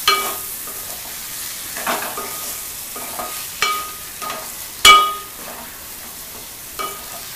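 A spoon stirs egg pulao ingredients frying in a pan, giving a steady sizzle broken by repeated scraping strokes and a sharp clack near the middle, close and clear with no talking.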